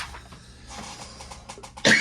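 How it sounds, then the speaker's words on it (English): One sharp, loud cough bursts out near the end, following a stretch of quiet, muffled background noise. "I don't know why I'm coughing suddenly."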